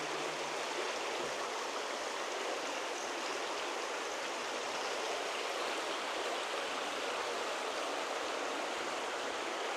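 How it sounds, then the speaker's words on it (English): A river rushes through a limestone cave, a loud, dense and unbroken watery roar like a strong stream or small waterfall, steady from start to finish with nobody talking. "with the river flowing."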